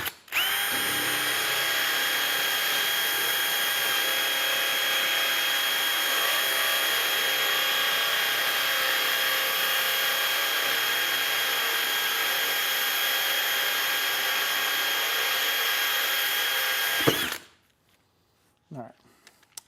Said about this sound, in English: These spider hole saws are awesome because you have a little ejector and you can just take out that piece.